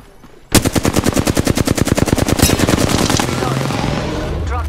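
Loud automatic gunfire in the battle royale game Apex Legends rattles off in a fast sustained burst of about three seconds, then trails into fainter mechanical clatter.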